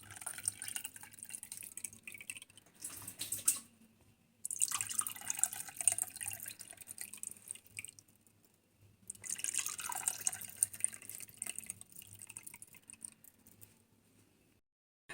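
Milk pouring into the cups of a Sonai yogurt maker, a steady close liquid stream in two long runs separated by short pauses, with no talking.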